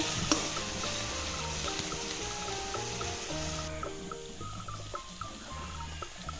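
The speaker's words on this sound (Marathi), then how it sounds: "ही मिरच्यांची पेस्ट तेलामध्ये टाकली हे सर्व तेलामध्ये छान फ्राय करून घ्यायचं आहे कांदा लाल होईपर्यंत" Chili paste and onion frying in oil in a pan for pithla, a steady close sizzle with faint stirring clatter throughout, no talk.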